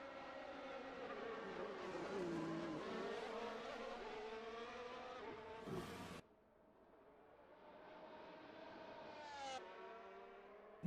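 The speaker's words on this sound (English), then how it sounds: "Lewis Hamilton will go around the outside into the chicane and will make the move stick against Lando Norris" Formula racing cars from a Belgian race video game scream through a chicane, high engine whines rising and falling with downshifts, one car passing then another revving away, fairly faint throughout.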